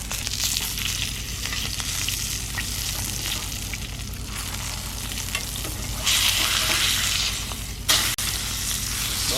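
Ribeye steak sizzling in bacon grease over a campfire in Denali National Park, a loud continuous close sizzle with crackles, a low hum beneath and a brief clatter near the end, no voices.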